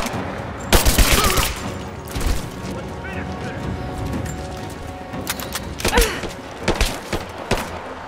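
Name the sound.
gunfire in Rise of the Tomb Raider video game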